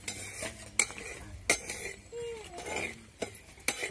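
Rice roasting in a pan for rice kheer, stirred steadily, with sharp scrapes and clinks of a spoon against metal recurring every half second or so over a soft frying crackle, close and moderately loud.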